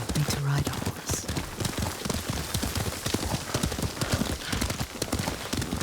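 Horse riding in the video game Ghost of Tsushima: a steady gallop of hoofbeats clip-clopping rapidly over ground, close and continuous, with a brief snort or whinny near the start.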